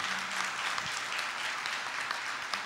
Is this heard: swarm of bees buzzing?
no